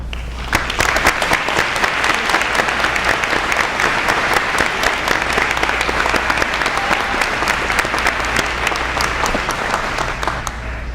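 An audience at a high school career day hosted with the Birmingham Optimist Club gives a sustained round of applause, dense and even clapping from many hands that stays loud and steady for the whole stretch.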